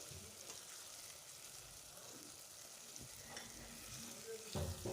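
Lightly mashed potatoes roast in a pan for aloo bharta, giving a soft, steady sizzle with occasional stirring scrapes and no talking.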